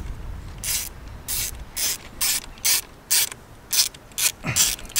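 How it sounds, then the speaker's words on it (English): A 10 mm spanner ratchets a bolt loose on a Seat Leon Cupra engine during spark plug work, producing a regular series of about ten crisp clicking bursts, close and alone without speech. "So 10 mil, spanner."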